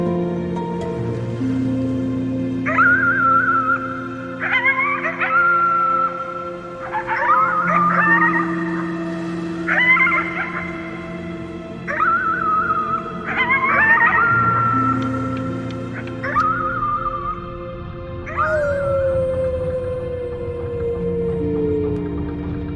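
A player character in the game Before Your Eyes howls at the moon at full voice: a series of long, rising yips and sustained wails, several in a row, sung over a steady droning musical background.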